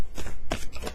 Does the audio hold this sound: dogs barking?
no